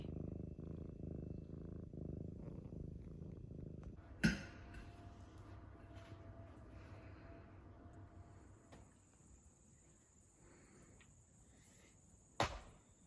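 A cat purrs close by in a mountain hut on New Zealand's Te Araroa trail, a low steady rumble for the first few seconds, followed by quieter room sounds and a couple of sharp knocks.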